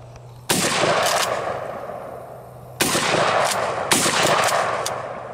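Gunfire from a scatter gun in a shooting game: three loud blasts, each with a long rolling echo tail, spaced a couple of seconds apart, with no talk over them.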